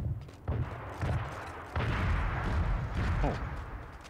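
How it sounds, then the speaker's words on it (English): Gunfire in the mech battle game Super Mecha Champions: a few heavy booming shots roughly every half second to a second, followed by a sustained rumbling barrage, loud and close. Some faint voices sit under the blasts. "I want to freeze them with my gun"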